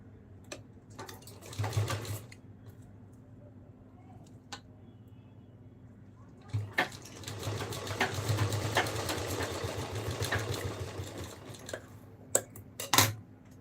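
A sewing machine stitches a fabric strip onto a small dress, running once briefly and then in a longer steady burst, close by, with quiet gaps between.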